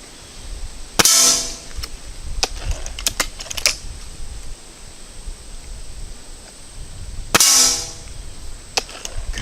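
Pellets from a Gamo Swarm air rifle strike a metal sign at close range, two sharp ringing impacts several seconds apart, each followed by a brief metallic shimmer, with faint clicks and handling noise between.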